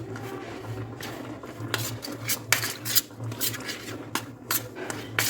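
Semolina being stirred into a mashed green pea mixture in a bowl for masala puri, giving steady scraping and clinking of a spoon against the bowl with a low hum underneath, close and fairly quiet.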